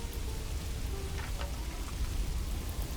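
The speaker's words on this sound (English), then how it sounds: "I mean, it's raining." Steady rain falls in the medieval city-building game Manor Lords, a soft continuous patter with no voices.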